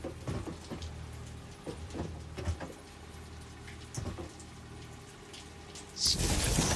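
Steady rain patter in a factory-building video game, a broadband wash with scattered drop taps that swells louder near the end.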